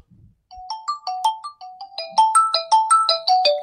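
A mobile phone rings with a bright electronic melody of short repeating tones that grow louder as they cycle, heard alone and close.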